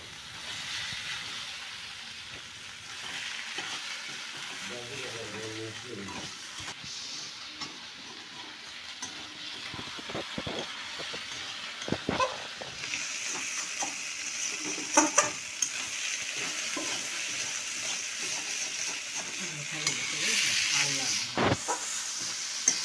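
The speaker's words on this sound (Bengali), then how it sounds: "তো সমস্ত কিছুকে খুব ভালোভাবে এবার ভেজে নিতে হবে।" Onions and spices fry in a pan with fish oil for an American rohu curry, giving a continuous sizzle with scraping stirs and occasional sharp utensil knocks, close and steady with no talking.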